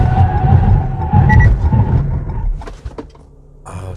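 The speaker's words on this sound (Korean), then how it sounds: "타이어 소음이 많이 들리죠." A Renault Samsung QM6 1.7 dCi SUV braking hard from about 100 km/h, with a loud broadband rumble and tire roar that swells, then fades as the car slows, followed by a brief faint squeak at the end.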